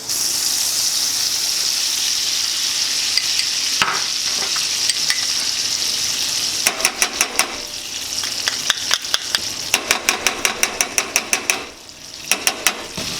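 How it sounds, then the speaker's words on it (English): Butter, sugar and honey melt together in a pan for homemade drunken apples, giving a steady low sizzle, while a spoon scrapes and clicks against the pan in quick bursts of repeated strokes partway through. "Then we're gonna add our sugar to this and our honey. And we're gonna melt all those together."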